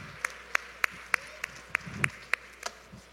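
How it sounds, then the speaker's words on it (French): Sparse hand clapping at a poutine cooking competition, about ten sharp, evenly spaced claps roughly every third of a second over quiet room noise, too few to sound like a full crowd. "Bonne main d'applaudissements, mesdames et messieurs."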